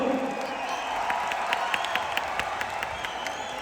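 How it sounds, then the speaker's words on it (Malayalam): Men in a large audience at a Kerala stage event applaud, producing sustained dense clapping with scattered sharp claps and crowd noise throughout, moderately loud and steady. "ആദ്യം പുരുഷന്മാരും മാത്രം ഒരു വലിയ കൈഡി തന്നെ"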